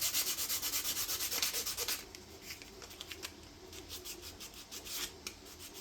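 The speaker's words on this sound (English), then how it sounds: "So I'm not going to sand the entire thing at this point. I just want to expose the windings right about here." A 3D printed plastic coil form for an HF ham radio antenna is sanded by hand to expose the windings: rhythmic scratchy rubbing strokes, fast and even at first, then slower and more irregular, close up.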